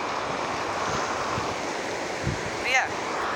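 Ocean surf breaking on a San Diego beach, a steady, close roar of washing water and wind with a brief splash near the end, continuing without a break.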